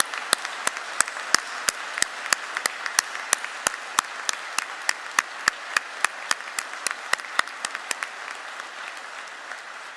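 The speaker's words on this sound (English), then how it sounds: "can we just finish with a last large round of applause for all these wonderful graduates?" At a university law graduation ceremony, light rhythmic clapping ticks along at a steady pace, sharp individual claps standing out over a quiet hall for about ten seconds, gradually easing toward the end.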